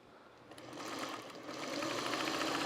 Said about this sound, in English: Now I'm going to sew these two halves together